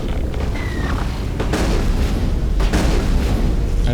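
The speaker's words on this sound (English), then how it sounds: "I'm gonna hit him with the shotgun" Shotgun blasts in the Mass Effect video game, loud booming shots over dense, continuous combat noise, close and heavy.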